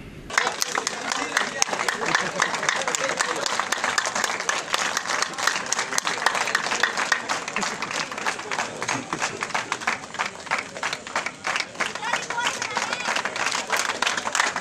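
Sustained applause from an audience at a public function in Churu, dense clapping running steadily and loudly throughout with no break.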